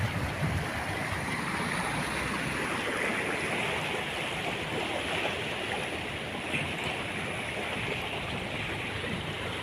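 Steady, broadband rush of the Palu River flowing in Nunu, carrying drifting logs, continuous and fairly loud throughout with no voices.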